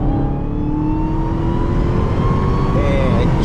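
Dodge Charger Daytona Hellcat accelerating hard on a highway, a loud, close, continuous engine roar with a whining pitch climbing steadily, heard from inside the car with heavy road rumble underneath.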